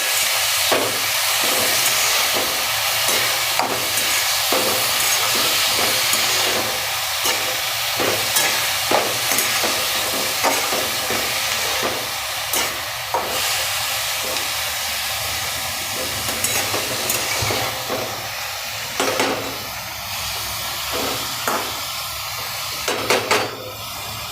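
Cabbage curry with turmeric is stirred in a hot pan, a steady frying hiss running throughout with repeated rhythmic scraping strokes of a spoon, close and continuous without speech.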